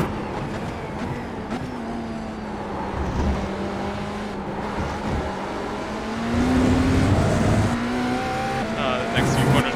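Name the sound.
race car driving on track in iRacing video game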